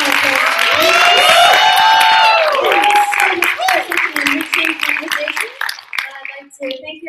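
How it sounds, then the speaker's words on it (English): Audience applause at the WOKE 2018 event, loud and steady from the start with voices and cheers mixed in, then thinning into scattered claps that fade out by the end. "Please give a big round of applause"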